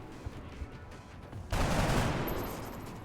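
A shot in the XCOM: Enemy Within video game lands as a sudden loud burst of gunfire partway through, after a quieter stretch of game ambience, then slowly fades, with no talking.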